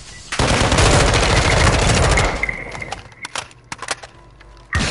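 Gunfire on Ashika Island in Call of Duty Warzone: a loud, sustained burst of rapid automatic fire for about two seconds, then scattered sharp single shots and a final close crack.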